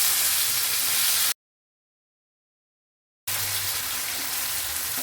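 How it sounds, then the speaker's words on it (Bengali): Chopped capsicum frying with minced garlic, ginger and chilli in a pan, an even close-up sizzle that drops out into complete silence for about two seconds, then resumes. "তো হালকা করে ভেজে নিয়ে এর মধ্যে দিয়ে দিচ্ছি কুচিয়ে রাখা ক্যাপসিকাম"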